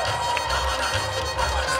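A variety-show audience applauds and cheers. Dense crowd noise with scattered shouts rises and falls over a brief stretch, with no clear speech on top.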